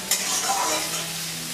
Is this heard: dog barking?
no